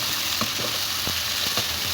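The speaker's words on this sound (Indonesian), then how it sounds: "Sudah layu, masukkan tomat, ditumis sebentar." Tomato and petai stir-fried in a hot pan, a close, steady sizzle with a few scraping stirs of the spatula through the oil, no talking.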